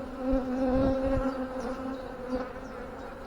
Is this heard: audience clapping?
no